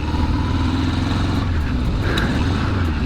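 A Kawasaki Z650 motorcycle being ridden through its gears, with a loud, continuous engine drone and road rumble close by and no voices.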